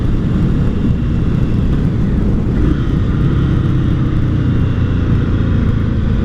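An Indian Scout 60 motorcycle engine rumbles loudly and steadily on a ride, with dense low-end engine drone and wind noise throughout.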